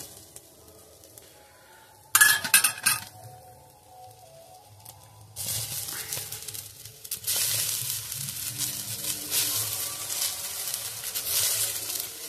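Kulekhara greens are tipped into a pan of fried onions and stirred. A quiet lull gives way to a burst of sizzling with metal scraping, then steady frying and stirring that continues to the end.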